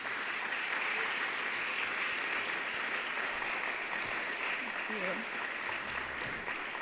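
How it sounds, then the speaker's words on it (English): Conference audience giving a round of applause, a steady broad wash of clapping that stays even and moderately loud for several seconds, with a faint voice briefly underneath near the end. "So can we have another round of applause"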